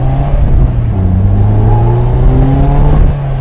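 A 2018 Polaris Slingshot SL three-wheeler accelerates hard, its engine note climbing through rising pitches across gear changes, loud and close with no voices.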